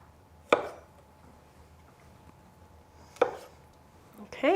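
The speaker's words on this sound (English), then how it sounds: "I'm gonna cut that bad boy in half" A knife chops through a block of tempeh on a cutting board, two sharp, distinct thuds a few seconds apart, then a brief clatter of handling at the end.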